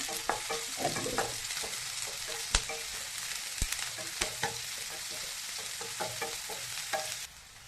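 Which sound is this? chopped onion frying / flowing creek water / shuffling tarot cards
chopped onion frying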